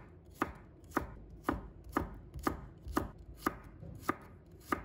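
Garlic cloves are sliced with a knife on a cutting board, about ten crisp, evenly spaced chops close up in a quiet room.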